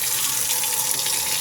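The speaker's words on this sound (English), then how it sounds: "let's go over to the faucet and test your hot water" Kitchen faucet running water while testing hot water supply from a tankless water heater, a steady, loud hiss of flowing water with no break throughout and no voices.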